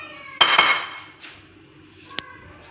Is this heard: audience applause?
no